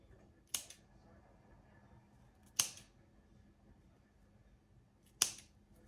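Scissors cut dessert ingredients with three crisp, isolated snips spaced about two seconds apart, close and sharp against a quiet room.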